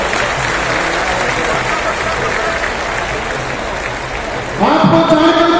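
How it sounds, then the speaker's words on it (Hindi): A large crowd at an outdoor political rally in Jind, Haryana, applauding in a steady, dense roar of clapping that holds throughout, with a loud voice over a PA system rising in at the end. "एक बार जोरदार तालियां बजा करके स्वागत कर दो।"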